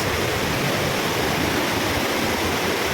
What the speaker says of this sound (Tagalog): Ito yung pangalawang falls.